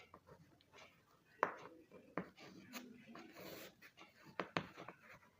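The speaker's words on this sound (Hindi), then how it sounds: "हम थोड़ा स्पीड से लिख रहे हैं" A pen writes quickly on paper during a maths lesson, making a run of short scratchy strokes and taps, fairly close and light, with faint background voice sounds.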